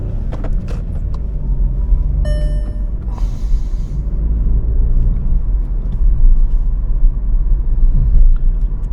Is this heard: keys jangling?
no